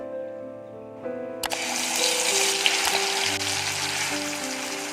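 Masala paste of ground onion and chili sizzles loudly as it hits hot leftover oil from frying onions for Hyderabadi chicken; a quieter hum gives way to a sudden, steady crackling fry that continues to the end.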